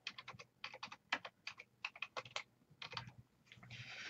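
Quick bursts of keystrokes on a computer keyboard, clicking in short irregular runs with brief pauses, close and fairly quiet, ending in a faint hiss; no talking.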